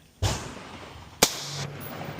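Two gunshots fired at an outdoor gun range in Texas, each a sharp loud crack with a lingering ringing tail, about a second apart, with no talk between them.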